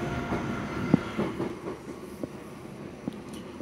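A Southern passenger train passes as a low, steady rumble of rolling wheels with faint rail clicks and a few sharp knocks, moderately distant and without talk.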